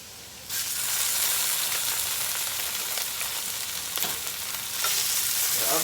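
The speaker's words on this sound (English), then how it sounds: "we're gonna sear a couple pieces in here with the pan with the potatoes" Pieces of pork belly searing in a hot pan alongside potatoes, a loud, steady frying hiss that swells after a quieter opening and carries on without talk.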